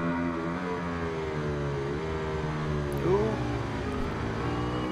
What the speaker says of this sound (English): Ducati bellow echoing under the tunnel.